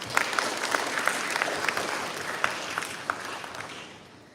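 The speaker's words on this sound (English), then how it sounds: "Let's give him a round of applause." Audience applause at a classical Indian dance arangetram, a dense steady patter of many hands clapping in a hall with a few sharper claps standing out, fading slightly toward the end.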